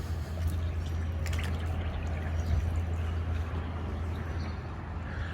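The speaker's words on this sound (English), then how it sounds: "the carp will get together. I don't know what they're doing, but they'll splash along the shoreline." Carp splash and slosh in lake water along the shoreline at a moderate distance, a steady watery churning with scattered small slaps over a low background hum.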